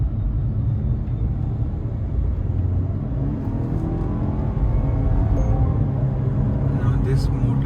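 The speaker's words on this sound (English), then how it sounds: "Now this motor sounds really nice, and the power delivery is very linear" A Volvo S60 engine running while driving gives a steady, loud, low rumble that holds throughout with no sharp revving, and a voice talks over it.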